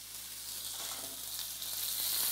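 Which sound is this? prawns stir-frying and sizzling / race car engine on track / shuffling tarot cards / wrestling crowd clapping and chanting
prawns stir-frying and sizzling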